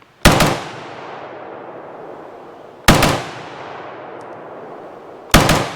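Colt M16A2 and FN M16A4 rifles fire three loud, sharp single shots spaced a few seconds apart, each followed by a long echoing tail that fades slowly before the next.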